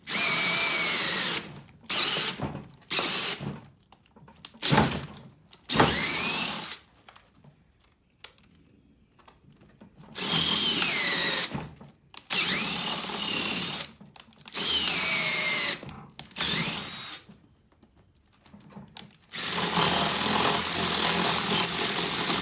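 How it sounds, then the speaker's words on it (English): A power drill with a 1/2 inch spade bit bores a hole for rebar through a wooden plug set in a tree limb. Loud whirring bursts start and stop repeatedly, with short pauses between. "I never did the hole for the rebar. So you just take a 1/2 inch spade bit"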